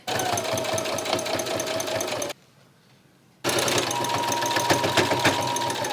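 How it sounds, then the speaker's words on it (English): A sewing machine stitches a denim dress upcycle, running in two steady bursts of rapid needle chatter separated by a short pause, close and loud with no talking. "So I need to flip it over and sew it from the bottom down."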